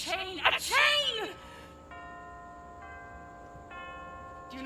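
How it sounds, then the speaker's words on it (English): A clock bell strikes during a stage play of The Comedy of Errors: a brief voice speaks first, then clear ringing bell tones sound at even intervals, each resonating before the next. "It was 2 hours I lost him, and now the clock strikes 1"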